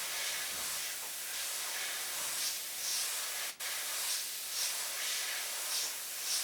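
Steady airbrush spray hissing on and off while a stencil is shaded, a broadband hiss with gentle pulses and one brief break near the middle, no talking.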